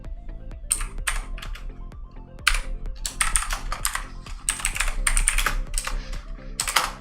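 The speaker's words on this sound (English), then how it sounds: "all I have to do is type an align tag" Fingers type on a computer keyboard, producing a steady stream of crisp, close key clicks in quick irregular bursts with no voice over them.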